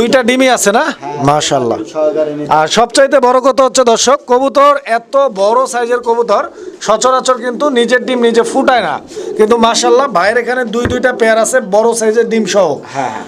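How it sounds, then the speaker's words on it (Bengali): Fancy pigeons, a breeding pair sitting on eggs, cooing in repeated warbling phrases close by while someone talks over them almost throughout. "দেখাচ্ছি চমৎকার আরও এক পেয়ার শৌখিন কবুতর"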